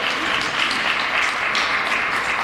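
Audience applause fills a State of the City address in Jackson, 2024, a steady, dense wash of clapping from a large crowd, loud and continuous throughout with no voices over it.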